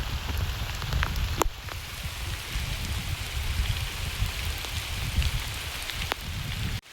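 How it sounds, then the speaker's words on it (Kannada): Steady rain pattering on surfaces outdoors during a sunshower, a continuous close wash of drops with a few sharper clicks, no voices. "ಮಳೆ ಬಿಸಿಲು ಎರಡು ಕಂಬೈನ್ ಆಗಿ ಬರ್ತಿದೆ."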